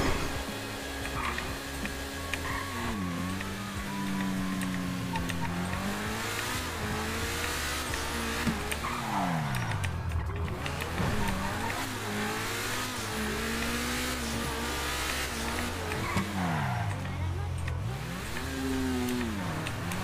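A Honda NSX driven in GTA V roleplay, its engine revving continuously for twenty seconds with pitch rising and falling through repeated acceleration sweeps, loud and close with no talking.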